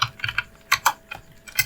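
Keys pressed on a computer keyboard during Android Studio coding, a quick series of close, crisp clicks in small clustered bursts with short pauses between them.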